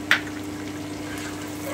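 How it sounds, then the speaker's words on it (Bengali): Cauliflower and chopped onion stir-frying together in a pan, giving a steady, soft sizzle with a brief louder clatter near the start as the pan is stirred. "একটু নেড়ে নিচ্ছি 2-1 মিনিট।"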